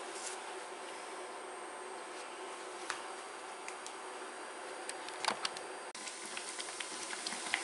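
Bokit dough frying in hot oil makes a faint, even hiss with scattered small pops and crackles, heard close up and alone without any talking.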